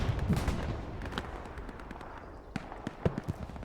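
Bombing explosions in a competitive video game match land as several sharp, heavy bursts over a continuous rumbling battle din, with moderately loud thuds clustered near the start and end.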